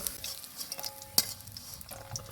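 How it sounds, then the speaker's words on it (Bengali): Paneer cubes frying in oil in a pan: a steady low sizzle with light stirring and a sharp metal utensil click near the middle. "পনির তরকারির জন্য পনিরগুলো পারফেক্ট করে ভেজে নিয়েছি"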